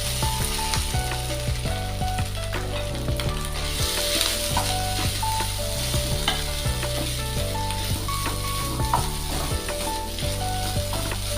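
Ground ginger hits about a spoonful of hot ghee in a pan while making a ginger-jaggery sweet. Continuous crackling sizzle follows, with scraping and stirring clatter throughout and no one speaking.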